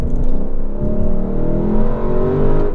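A 2023 Lexus LC500 engine revs hard under acceleration, a loud, steady growl with rising harmonic tones that swell and ease slightly across the short stretch, close and without any voices.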